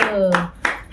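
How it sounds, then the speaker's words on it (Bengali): A few sharp, evenly spaced hand claps at a family birthday party, close by, following a brief voice at the start. "হাততালি দাও, হাততালি দাও, হাততালি, হাততালি।"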